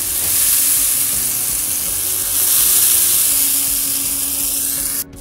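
Onion-tomato masala frying in a pan, a loud, steady close-up sizzle holding throughout with a brief dip near the end, no talking.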